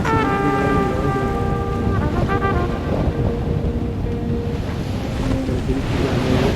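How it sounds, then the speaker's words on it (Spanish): Sea waves at the Río de la Plata break in quick succession, one after another, as a continuous rushing surf with heavy wind buffeting the microphone and a faint tonal hum early on. "Fíjense el tren de olas, es una tras de otra, tras de otra, tras de otra"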